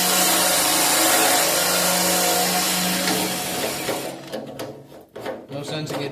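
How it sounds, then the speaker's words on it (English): A wire wheel on a power drill scours the inside of a Ford Model A gas tank, a loud continuous whirring grind that cuts out and gives way to clattering handling noises. "okay, on with the wire wheel."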